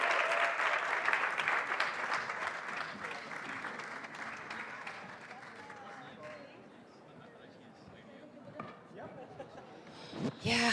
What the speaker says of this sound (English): Let's bring on the applause and welcome to the stage Gwen, Sebastian, Roxana, and Jérôme.